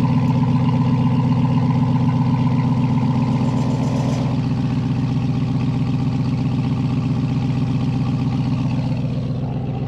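A 2021 Ram TRX engine idling with its QTP Aggressor exhaust cutouts closed makes a deep, steady rumble heard close and loud. A faint higher whine fades out partway through, and no one speaks.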